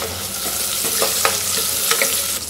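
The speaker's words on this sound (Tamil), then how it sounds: "அதனால் லைட்டாக வதக்கிட்டு நம்ம முட்டைக்கோசை தனியாக எடுத்து வச்சுக்கிறோம்" Chopped cabbage sautéing in a pan with green chilli and curry leaves, a steady close sizzle with light stirring scrapes throughout, no voices.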